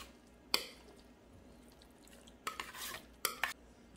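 Pumpkin mix being added to a casserole: a few soft wet plops and scrapes, one short burst early and a cluster of squishy thuds near the end, quiet against a still room.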